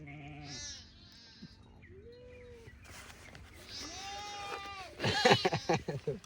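Several goats bleat in short, wavering calls at close range, a few early ones alone and then a louder burst of overlapping bleats near the end, with quiet background noise between.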